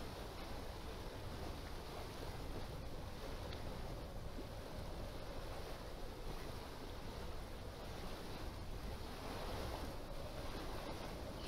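Sailboat cutting through waves in the sailing simulator game Sailaway, moving at about ten knots, a constant wash of water and wind rush with gentle swells in level, heard alone and fairly quiet.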